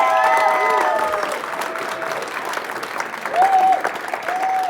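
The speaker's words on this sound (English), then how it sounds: "let's have one final round of applause" A final round of applause at a startup accelerator demo day, steady clapping from a crowd filling the clip, with some voices and tonal sounds mixed in over it.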